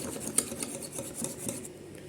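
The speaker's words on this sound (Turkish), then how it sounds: "Pürüzsüz oluncaya kadar karıştıralım." A whisk or spoon scrapes and swirls through crepe batter in a bowl, a continuous close rasping stir with faint rhythmic strokes and no talk.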